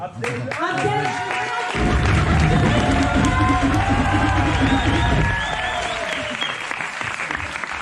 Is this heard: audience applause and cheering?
yes